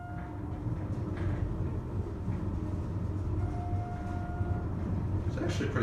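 A Schindler hydraulic parking elevator runs with a steady low rumble much like a passing train, loud and continuous throughout. A faint tone and scattered clunks ride over it.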